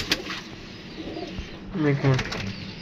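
A pigeon coos a few times in a short low burst near the end, with someone talking over it in the loft.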